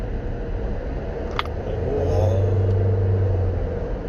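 A fully optioned SsangYong Torres T7 SUV accelerates from inside the cabin, with a low engine drone that rises and swells partway through under steady road noise.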